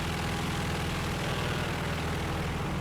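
Steady, droning piston engine of a Bloch M.B.152 French fighter plane in a combat flight game, a constant loud hum with no breaks and no voices.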